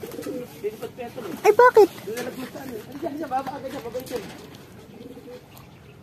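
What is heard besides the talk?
pigeons cooing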